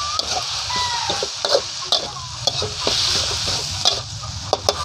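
Cassava leaves and anchovies stir-fried in a pan, with a steady sizzle of frying under repeated scraping and clattering strokes from a spatula, close up and fairly loud, with no talking.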